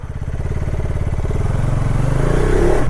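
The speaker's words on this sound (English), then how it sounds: "Now let's take it on to roads to enjoy this motorcycle." A KTM Adventure 250 motorcycle engine rumbles steadily close by, revving up slightly as it pulls away on the road, with no voices.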